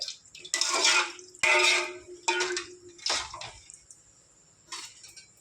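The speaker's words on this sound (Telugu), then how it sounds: "ఇప్పుడు ఇందులో నేను ఒక లీటర్న్నర వాటర్ యాడ్ చేసుకుంటాను" About one and a half litres of water gushes in a few loud splashing pours into a metal cooking pot for rice, with clinks and short pauses between the bursts.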